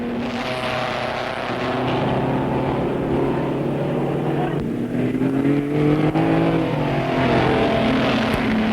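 Racing cars at the 1959 Bathurst 100 Easter meeting, a big group of lapped cars, roar past in a steady, loud engine drone with rising and falling pitch as they go through, no voices.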